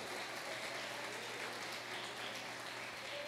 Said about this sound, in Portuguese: Você pode aplaudir o nome dele?